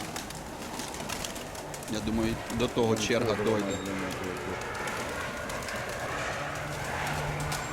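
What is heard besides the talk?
pigeons cooing in a pigeon loft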